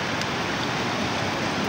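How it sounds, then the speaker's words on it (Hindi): Sea waves washing in at the seaside, a steady broadband rush of surf that holds at an even level throughout, with no voices. "वो लहर आ रही है जुबान के पास"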